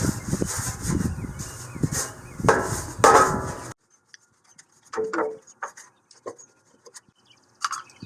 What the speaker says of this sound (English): take a paintbrush and just kind of take it in here and just get all the crevices and the corners